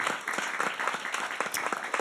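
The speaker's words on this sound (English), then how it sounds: "So please, let's start by just giving them a round of applause." Audience applause at a maternal health event, a steady wash of many hands clapping with scattered louder claps throughout, fairly close and sustained.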